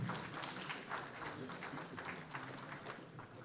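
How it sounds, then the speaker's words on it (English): An audience at a formal government presentation event applauds to welcome a speaker to the stage, a sustained moderate patter of many hands clapping at some distance. "Can we have a round of applause?"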